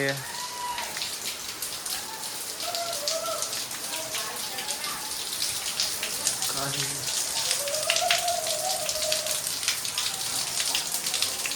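Water pouring down inside a hillside temple at the Najar Mata waterfall makes a constant rushing, splashing roar while several voices talk over it.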